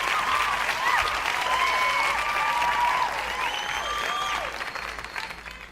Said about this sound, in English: Cheer, louder. Not loud enough. Clap more.